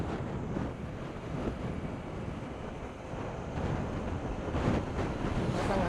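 Strong wind on a trail road in San Luis, Aurora roars steadily across the microphone, a dense, continuous rumble with no voices.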